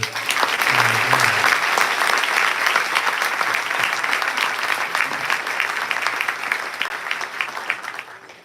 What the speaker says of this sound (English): Can we give a round of applause for all of our award winners?